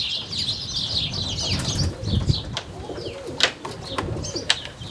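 A roller pigeon beats its wings in flight, giving a run of quick, soft flapping bursts and a few sharper wing claps close by, with faint cooing and outdoor background noise.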